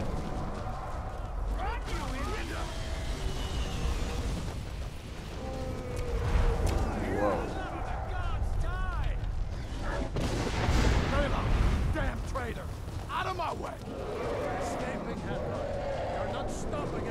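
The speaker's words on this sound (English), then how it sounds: "look at them shooting fireballs" Fireballs shot by enemies in the video game Skyrim, a series of booming, crackling blasts and impacts rolling through a battle scene, with someone talking over much of it.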